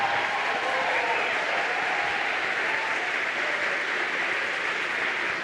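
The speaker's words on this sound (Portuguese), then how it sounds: "Então eu gostaria que vocês aplaudissem esses pastores" A church youth congress audience applauds its pastors, a steady, dense wash of clapping that stays loud and even throughout.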